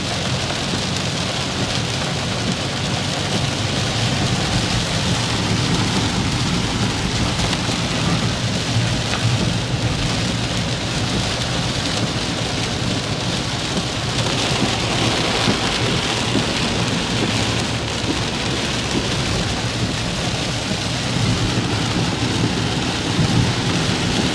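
Heavy rain pounds down steadily through a Kansas thunderstorm, with low rolling thunder rumbling underneath across the whole stretch, loud and continuous with no voices.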